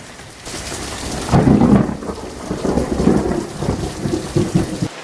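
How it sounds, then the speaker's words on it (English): Steady rain falls through a thunderstorm as low, rolling thunder rumbles up and fades over several seconds, heard from a sheltered spot outdoors with no voices. "I just sit out here and watch the storms"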